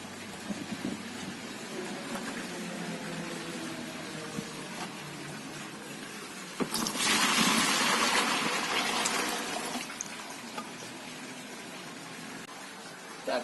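Liquid B concentrate hydroponic nutrient solution pours in a steady, close gush that swells to a louder, fuller stream in the middle and then settles back to a softer trickle.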